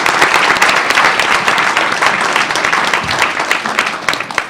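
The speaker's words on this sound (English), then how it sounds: "If we could all give him a round of applause for his work." Sustained applause from an audience at an Illinois Board of Higher Education meeting, a dense, steady wash of many hands clapping at fairly close range.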